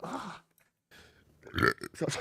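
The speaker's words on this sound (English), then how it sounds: "Burping is fine." A deep, drawn-out human burp, loud and close, followed after a brief silence by further throaty sounds and voice.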